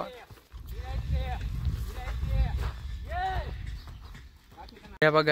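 A horse in training clip-clops with steady hoofbeats close by, and a voice talks over the rhythmic hooves throughout.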